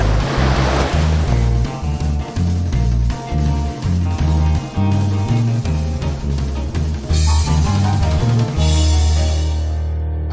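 Ocean surf at Hampton Beach, New Hampshire, rolls and breaks continuously, loud and close, with rushing water and wind buffeting the microphone.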